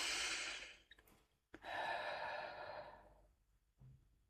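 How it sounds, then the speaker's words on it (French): A person takes a deep, slow breath, with a long airy inhale followed by a soft exhale, close and quiet with no talking. "Prends une grande inspiration."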